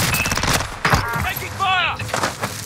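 Gunfire in Call of Duty Warzone on the Caldera map rattles through a few bursts of shots, mixed with game sounds and voices talking over the action.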